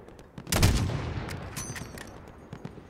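Gunfire in the Call of Duty: Modern Warfare campaign, with a loud close burst of shots followed by a decaying rumble and scattered fainter shots, no talking.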